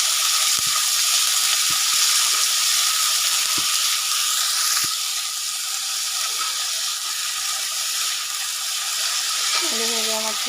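Potatoes fry in a pan of hot oil, giving a steady loud sizzle and hiss throughout, broken by a few faint clinks and a short tonal sound near the end.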